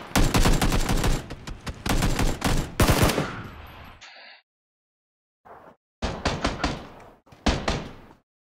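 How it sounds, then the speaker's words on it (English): Gunfire in PlayerUnknown's Battlegrounds crackles in rapid automatic bursts, several loud volleys separated by short silences, then a single brief shot before two more bursts. "I heard another gunshot."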